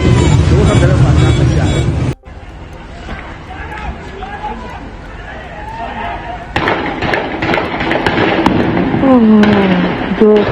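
Gunfire during street protests in Iran, scattered sharp cracks heard amid crowd noise, shouting and traffic-like rumble, with loud voices and chaotic street sound throughout.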